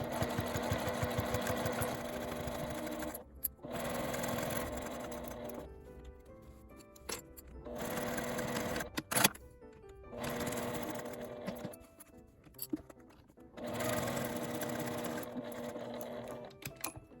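A domestic sewing machine stitches thick quilted fabric for a small zippered mini pouch, running in loud sustained bursts with short pauses between seams where the presser foot is lifted and the fabric repositioned.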